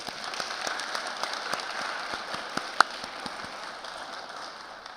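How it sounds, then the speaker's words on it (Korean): Faint, scattered claps ring out from the audience at a chapel worship service of a theological graduate school, sparse and distant rather than a full ovation. "저희들이 마음을 다해서 감사의 박수를 드립시다."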